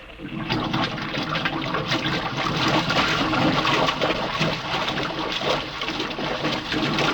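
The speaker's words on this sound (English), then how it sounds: "Water's being pumped out." A radio drama effect of water being pumped out of an airlock: a loud, continuous rushing and gurgling of water that surges steadily for the whole stretch, with no voices over it.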